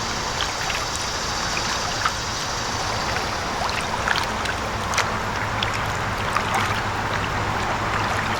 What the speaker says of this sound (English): I just gotta paddle my way down to the launch point.